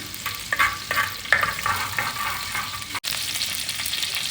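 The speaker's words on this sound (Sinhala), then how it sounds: "අබ ටික හොඳට රත් වෙන්න ඕනේ" Mustard seeds and fenugreek heating in hot oil for an egg curry, giving a steady close sizzle with sharp crackles and popping bursts scattered through the first half, then a smoother continuous fry.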